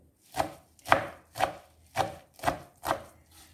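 Beet greens chopped with a knife on a board, six evenly spaced thudding cuts at a relaxed pace, close and fairly quiet with no voices.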